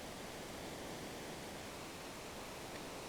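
Steady rushing waterfall ambience from the Final Fantasy VI video game, a continuous broadband wash of falling water at even loudness throughout, with no talk.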